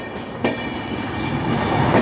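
Vidarbha Express passenger train, Gondia to Mumbai route, rolling steadily on rails with a continuous loud rumble and wheel clatter, close by, with a brief sharper clack near the start and no talk.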